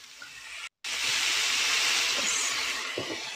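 Vegetable and noodle filling stirred in a hot pan, a steady loud hiss and sizzle broken by a brief gap, with faint scraping near the end and no talk.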